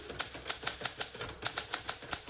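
An Alpine Blue 1960 Sterling typewriter being typed on, with a dozen or so crisp, close keystrokes struck in a quick, fairly even rhythm and one short pause midway.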